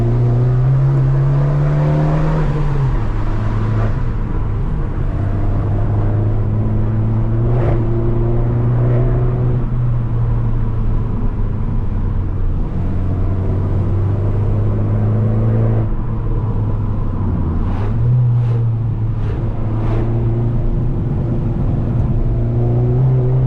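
Car engine revving during a hill climb time trial on wet roads, a loud continuous close drone that rises and falls through gear changes and throttle lifts, alone without talk.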